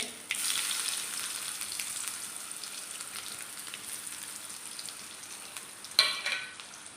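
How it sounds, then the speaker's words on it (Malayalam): Mustard seeds pop and chopped shallots fry in oil for a Kerala-style tomato curry, producing a steady, close hiss with fine crackling that carries throughout, then a sharper burst near the end. "നമ്മുടെ കടുക് പൊട്ടുന്നുണ്ട് നമുക്ക് അതിനകത്തോട്ട് ഒരു രണ്ട് ചെറിയ ഉള്ളി അരിഞ്ഞതും കൂടെ ഇട്ട് കൊടുക്കാവേ"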